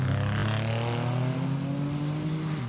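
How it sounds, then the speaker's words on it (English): A Dodge Viper race car on a public road course, its engine rising in pitch as it accelerates and passes, a sustained loud growl with clear harmonic revving, alone without talk. "his Dodge Viper showed no signs of slowing down on the road from Launceston to Strawn"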